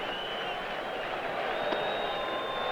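Stadium crowd at a 1988 Reds vs Phillies baseball game, a steady broad roar of many voices murmuring and cheering at a distance, rising slightly partway through, with no distinct speech over it.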